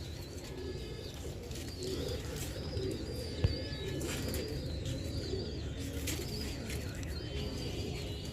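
Slate Kamagar pigeons in hot Multan weather coo softly at moderate distance, with other birds chirping around them and a steady low background rumble, plus one brief sharp knock midway.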